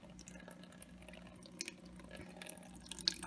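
Water from an adjustable flow valve on a 15-gallon nano reef aquarium, turned down to a slow drip, gives faint, soft splashes over a steady low trickle and background hum, with no one speaking.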